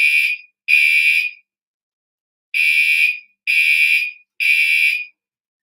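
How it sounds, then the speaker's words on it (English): Fire alarm going off inside Louisville High School, loud electronic horn blasts in a broken pattern: two bursts, a pause, then three more, each about half a second to a second long, with silence between. "You guys get a little bonus fire alarm today at the Louisville High School"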